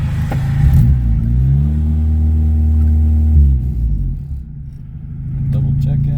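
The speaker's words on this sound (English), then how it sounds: "Give her some revving." A car engine with a factory turbo setup revs up with a deep, loud, steady rumble for about three seconds, then drops back to idle while people talk nearby.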